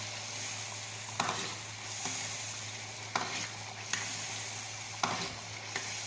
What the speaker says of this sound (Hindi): तो इसको हम ज़रा 1-2 मिनट के लिए भून देते हैं